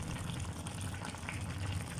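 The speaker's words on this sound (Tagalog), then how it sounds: "Kumukulo na guys siya." A pot of salmon belly paksiw bubbles and simmers steadily up close, a continuous burbling with no voices.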